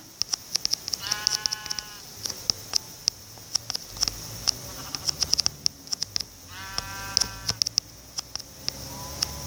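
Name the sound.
sheep bleating as it is killed in Minecraft, a video game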